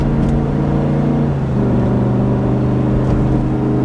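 Ford F350 truck with a 7.3L engine pulling a heavy payload, its engine droning steady and loud with a low harmonic hum that climbs slightly as it gains speed, no talking.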